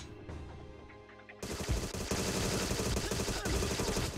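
Sustained rapid gunfire from enemies firing at the player in Agent 64 breaks out suddenly after a quiet opening and keeps going as a dense, loud barrage.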